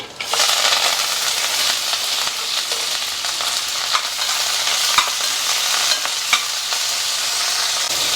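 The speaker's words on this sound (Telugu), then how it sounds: "నూనె కాగింది టపటప అన్నాక ఉల్లిపాయ వేసేసుకున్నామండి" Onions fry in hot oil with a dense, continuous sizzle and crackle close up, broken by occasional sharp pops and stirring clicks.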